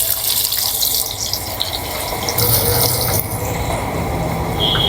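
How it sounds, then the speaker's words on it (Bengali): Onions frying in hot oil over caramelized sugar while being made into beresta, crisp fried onion, in a very large batch of about two hundred kilograms. A loud, steady sizzling hiss runs unbroken throughout, with no voices. "দিয়েছি তেলের ভিতরে পেঁয়াজ"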